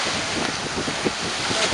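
Steady wind roars across the microphone aboard a sailboat at sea, a continuous broadband rush with slight gusting swells and no clear voices.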